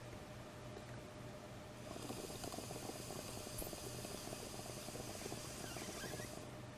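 Air bubbles through lime water in a test tube, a faint, low bubbling and gurgling that grows busier after about two seconds and continues steadily, with no voices.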